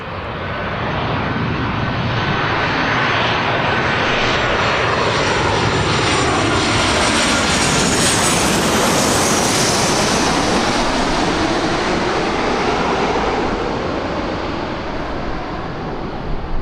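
A Wizz Air airliner's jet engines roar at Birmingham Airport, a loud broad rushing sound that swells and sweeps past in a long continuous pass before easing off, with no talking.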